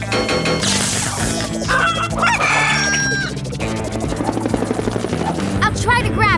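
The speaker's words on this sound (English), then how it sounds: "We're chasing down some chickens." Cartoon chickens cluck and a rooster crows amid loud, busy music and a whirring drone, with brief voices mixed in.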